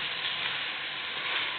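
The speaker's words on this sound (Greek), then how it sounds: "Σοτάρουμε ακόμα λίγο όλα τα υλικά μας" Carbonara ingredients are sautéed in a pan alongside cooked tagliatelle, producing a steady, close crackling sizzle with no pauses and no voices.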